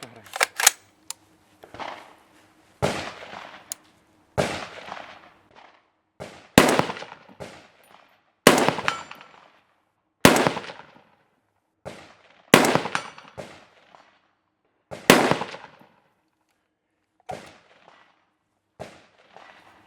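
A Heckler & Koch MR308 rifle fires HPBT test rounds in a loud series of sharp, reverberant shots spaced roughly one to two seconds apart, each cracking report decaying quickly with no talk between.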